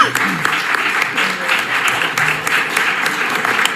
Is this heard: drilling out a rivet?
no